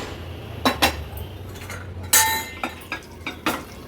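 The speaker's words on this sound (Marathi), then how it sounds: "मी आता ही एका पातेल्यात काढून घेते" White rajma curry, pressure-cooked in Agri Koli style, is ladled from the cooker into a pot. A series of close metallic clinks and scrapes from the spoon against the vessels come in separate bursts over a low steady hum.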